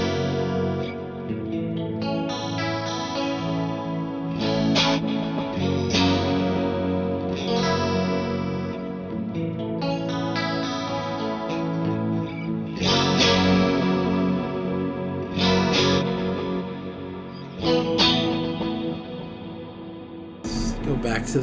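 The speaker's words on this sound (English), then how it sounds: "so here's the delay, all in the H9, just my little JL delay, tape delay, micro pitch shift" An electric guitar runs through an Eventide H9 with delay, tape delay and micro pitch shift, playing chords and phrases whose repeats trail and shimmer in a wide, echoing wash, with no talking.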